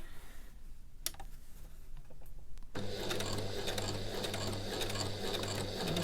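Sewing machine stitching a fabric face mask, a few faint clicks and needle taps at first, then the motor kicks in with a steady close mechanical whirr and rapid stitching rhythm.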